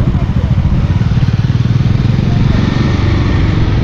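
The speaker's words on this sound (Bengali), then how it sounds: "আমাদের বাইকাররা সবাই যাচ্ছে একসাথে" A group of motorcycles ride together on a weekend trip, their engines throbbing in a loud, pulsing rumble close by, steady throughout.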